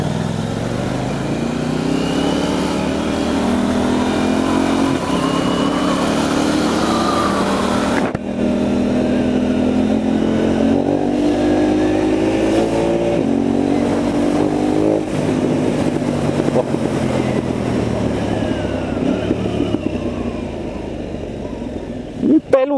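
A KTM Duke 990 motorcycle engine revs and pulls away under acceleration with traction control on, a rising then sustained loud drone, close by, with a sharp shift partway and a voice talking over it.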